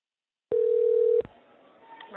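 After a prank call to a Mexican restaurant is hung up, a steady telephone tone plays on the line, clear and alone for under a second before it cuts off into faint line noise.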